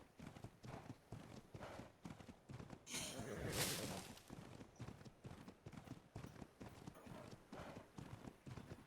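Horse hooves clip-clop in a steady, even rhythm in the video game Ark, with a brief louder rush of noise partway through.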